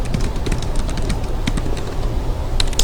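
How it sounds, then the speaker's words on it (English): Steady typing on a computer keyboard, a continuous run of light, quick key clicks at close range with no talk over it. "remembering everything that I'm mentioning as I'm typing"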